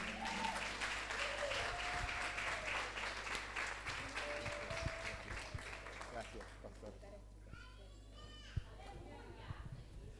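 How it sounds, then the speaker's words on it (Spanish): A church congregation applauds its bishop, Alfonso Medina, in a dense wash of clapping mixed with children's chatter and a voice, then thins toward scattered claps and quieter murmuring near the end. "A nuestro obispo Alfonso Medina con aplauso"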